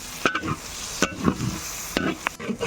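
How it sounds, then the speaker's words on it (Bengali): Spice masala with turmeric, chilli powder, cumin, bay leaf and garam masala is fried and stirred in a pan, with repeated scraping strokes and clacks of the spoon over a low sizzle. "মশলাটাকে ভালো করে কষে নেব।"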